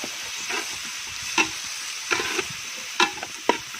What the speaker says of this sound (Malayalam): നമ്മുടെ സവാള ഉള്ളി പച്ചമുളകും ഒക്കെ ഒന്ന് വാടി വന്നിട്ടുണ്ട്